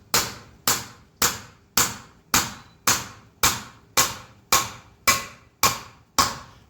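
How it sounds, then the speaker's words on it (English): Hammer blows on a special SKF fitting tool drive a roller bearing outer race into the discharge flange of a Bitzer screw compressor: twelve sharp, evenly spaced metallic strikes, loud and close, with no talk. "We use a special tool of SKF and push the outer race with hammer and a special tool."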